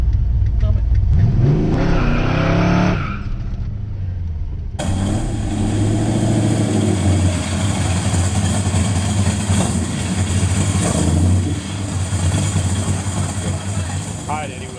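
A 1971 Mercury Comet GT engine revs hard, then settles into a loud rumbling idle, close by, with a voice speaking briefly over it.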